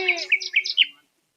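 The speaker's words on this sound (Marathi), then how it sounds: "त्या चिमण्या तरी का बसल्या बापा" Sparrows give a quick run of about five bright chirps close by, then stop and leave silence.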